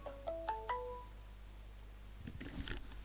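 A phone ringtone plays a short rising sequence of three bright electronic tones, then gives way to muffled rustling and clatter.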